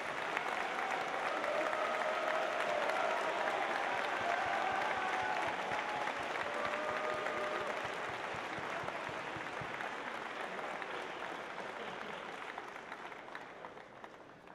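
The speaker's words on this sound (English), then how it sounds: "give me a warm round of applause for Kim Kelsey" Sustained audience applause at a FIRST robotics district event's opening ceremony in St. Joseph, greeting the volunteer coordinator. Dense clapping from a large crowd fills the hall steadily for about fourteen seconds, slowly fading toward the end.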